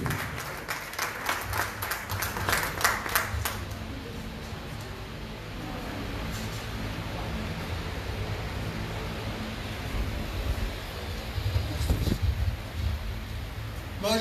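Crisp applause at a higher-education and professional-studies fair welcomes a colonel for the first few seconds, then thins into a low rustling hall murmur with a few scattered claps near the end.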